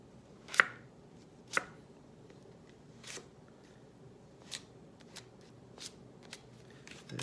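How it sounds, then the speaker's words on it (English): A gift card presses and scrapes tape down onto a torn book page, giving soft, sparse scratchy clicks and rubs at irregular intervals, close and quiet. "I'm pushing the tape right down into the V, and then I'm gonna spatula up"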